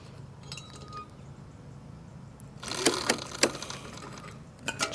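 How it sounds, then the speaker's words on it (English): New chain pulled through the sprockets of a Sur-Ron X electric dirt bike, with quiet metallic clinks and rattles that turn into a louder burst of chain links rattling midway. "So now we can just pull it through, hopefully."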